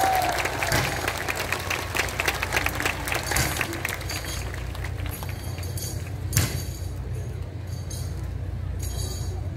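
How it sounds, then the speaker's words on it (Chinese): Outdoor crowd applause for a fire dance troupe at a Kaohsiung night festival, dense clapping that thins out over several seconds, with a sharp clink partway through and a lingering background murmur. "最热情的掌声再次献给场上无畏火焰的即将成真火舞团以及火舞神将"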